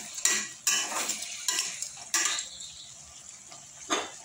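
A utensil scrapes and clanks repeatedly against a cooking pot while lemongrass is stirred into native chicken, several sharp metallic strokes at close range with soft sizzling between them.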